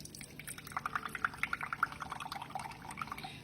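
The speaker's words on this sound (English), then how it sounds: "Actually, I'm just going to pour the whole can in." Evaporated milk poured from a 12-ounce can, a quiet, close, bubbly glugging stream with small drips for about three seconds.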